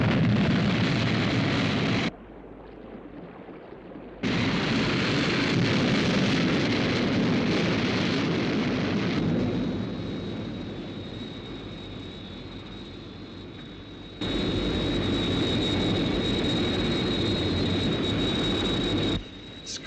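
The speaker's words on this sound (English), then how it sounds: "Lift-off -5, 4, 3, 2," The Sky 1 interceptor craft lifts off and flies, a loud roaring engine blast that cuts out briefly, returns, fades into a whining hum and surges again near the end.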